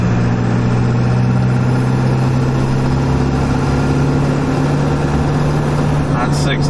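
A 7.3 Powerstroke diesel truck fitted with a Wicked Wheel 2 turbo wheel drives along with a loud, steady, low engine drone and a continuous whine, with someone talking over it.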